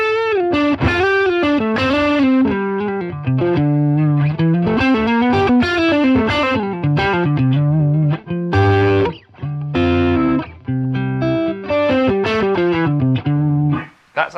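Distorted, high-gain electric guitar through a Line 6 Catalyst amp, reverb and delay off, chugs through a busy rhythm part, loud and close, with short palm-muted stops and quick chord changes.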